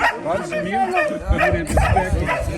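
Dogs yip and bark excitedly in short bursts close by, mixed with people talking over them.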